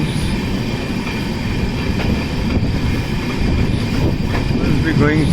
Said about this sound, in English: Local train.